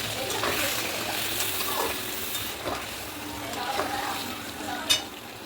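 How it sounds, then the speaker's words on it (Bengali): Spicy chicken sizzles steadily in a pan as a little hot water goes in and the mixture is stirred, a continuous close frying hiss with soft scraping and one sharp clink near the end. "এবার আমি অল্প করে গরম জল ঢেলে দেবো।"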